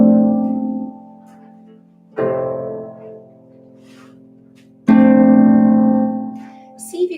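Blocked harp chords, every note plucked together, ring out three times, each a bright attack that sustains and slowly fades before the next, with no talk over them.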